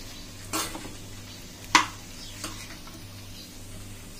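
Schezwan fried rice gets tossed and stirred in a pan over a medium flame, with three quiet scraping strokes and a sharp metallic clink over a faint low hum.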